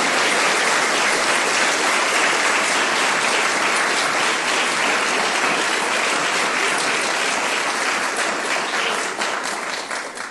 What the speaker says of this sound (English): Yes, you could applaud.